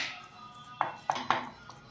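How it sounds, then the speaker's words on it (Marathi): A metal spoon mashes soft cooked dal and rice in a pot, giving three or four sharp, quiet clinks against the vessel over a faint background hush. "थोडंसं असं चमच्याने मॅश करून घेऊयात।"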